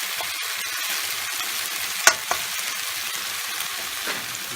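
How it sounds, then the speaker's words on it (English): Meat sizzling steadily in a hot pan as sauce is added, a constant crackling hiss with a sharp clatter and a couple of stirring knocks midway. "So now I reckon we'll add the sauce to that."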